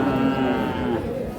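A Sahiwal calf moos at a busy cattle market, one drawn-out, fairly close call set against the murmur of the crowd.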